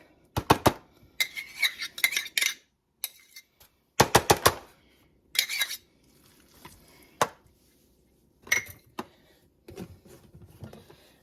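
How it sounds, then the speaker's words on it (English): Mayonnaise being stirred in a bowl, a series of sharp clinking and scraping spoon strokes against the bowl in irregular bursts with quiet gaps between. "I'm going to stir that around a little bit"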